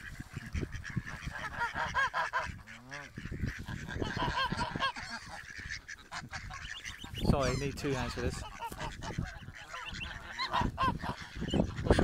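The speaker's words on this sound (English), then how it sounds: "That's a goose over there. It's a farmyard goose." A farmyard goose at a reservoir honks repeatedly, loud and close, with harsh nasal calls rising over steady talking voices and outdoor noise.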